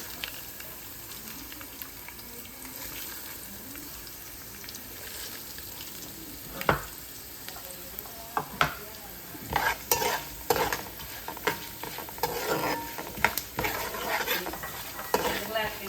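Urad dal, cumin seeds and mustard seeds sizzle steadily in hot oil, with a constant hiss broken by sharp pops and spoon scrapes that grow busier toward the end.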